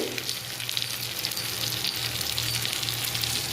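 Vanjaram seer fish fries in a pan of plentiful oil, a dense, continuous close-up sizzle with crackling bubbles and no voices.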